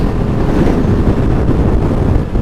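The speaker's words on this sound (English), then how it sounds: "Feels a whole lot windier here." Strong wind blows outdoors in spring, roaring and buffeting the microphone as a loud, continuous rush without pause.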